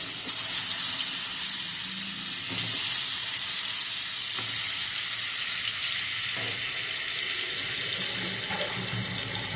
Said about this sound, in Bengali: এবারে পটলগুলো ভাজা হোক একটু একটু করে